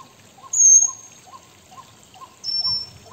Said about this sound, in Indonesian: suara kicauan burung-burung dan juga disertai dengan suara aliran air